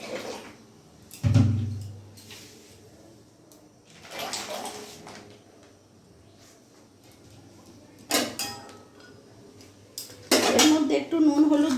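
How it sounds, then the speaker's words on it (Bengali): Figs going into a pot on the stove to boil, with a few sharp metallic clanks and knocks of cookware spaced through an otherwise quiet kitchen, and a busier clatter near the end. "এবার আমি ডুমুরটাকে সেদ্ধ বসাবো"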